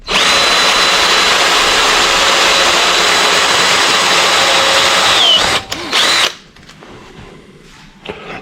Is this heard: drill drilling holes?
yes